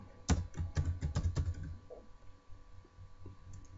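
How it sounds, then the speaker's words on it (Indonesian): A rapid burst of close computer keyboard keystrokes, followed by a few softer scattered clicks in a quiet room while typing in CorelDraw. "Misalkan di sini saya ketikkan nomor"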